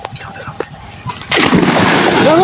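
People wade into a pond to fish: after some quiet talk, a sudden loud burst of splashing and sloshing water continues to the end.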